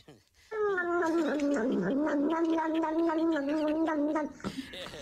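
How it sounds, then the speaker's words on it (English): A cat makes a long, wavering, gargly yowl with a tremor in it while drinking water, loud and close for about four seconds before tapering off, with no talk over it. "just look at this cat, how it is drinking water by making sounds"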